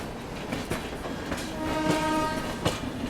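A horn sounds from a passing train: a sustained multi-tone blast about a second long over steady rolling wheel clatter and rail noise, with no talking.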